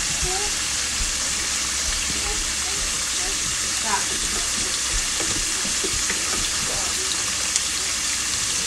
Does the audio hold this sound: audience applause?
no